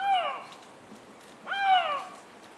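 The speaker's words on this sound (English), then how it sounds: "The lynx in heat." Eurasian lynx in heat giving two drawn-out, tonal calls with rich harmonics, each rising then falling like a plaintive meow, separated by a pause of about a second, heard clearly against a quiet background.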